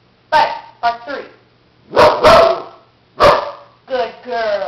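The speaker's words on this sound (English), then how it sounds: "Butter, bark three." A dog barks three times close up, sharp separate barks, the last followed by a short whining yelp.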